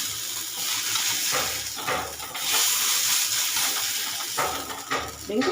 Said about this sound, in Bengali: এইভাবে হালকা করে একটু ভেজে নেবে সব মাছগুলো